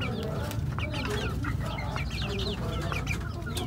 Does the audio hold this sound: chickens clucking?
yes